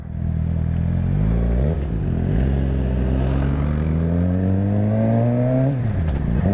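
Motorcycles including a Kawasaki Z900, Yamaha MT-07 and Suzuki GSX-R on a ride, close engine note climbing through gears with rising whine, brief dips at shifts, then steady pull, no talk.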